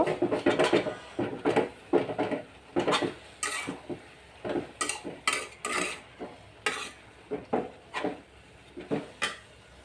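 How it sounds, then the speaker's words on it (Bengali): Jute greens with green chilli and chopped onion being stirred in a pan: a run of repeated scraping, clattering strokes in a steady rhythm over a faint sizzle, close and fairly loud. "যে কাঁচামরিচ দিয়ে দিলাম পেঁয়াজ কুচি দিয়ে এখন এটাকে আবার আমি নাড়াচাড়া করব"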